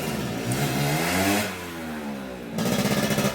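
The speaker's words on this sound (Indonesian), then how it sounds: "Motor dinyalakan," A Honda Scoopy scooter engine running steadily up close, a continuous mid-pitched hum that dips briefly and then picks up again with a faint pulsing idle.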